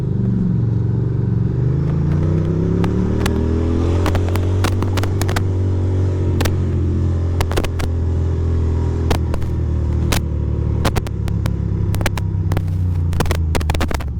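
A Toyota Highlander driving and making a turn, steady low engine drone with a gliding pitch as it rounds the corner, loud and close, with scattered sharp clicks and crackles over the hum.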